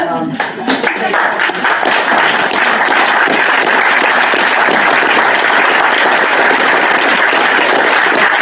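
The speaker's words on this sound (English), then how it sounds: "give the Wrightstown football team a round of applause" Loud, dense applause and clapping at a school district board meeting for the Wrightstown football team, continuous and close throughout.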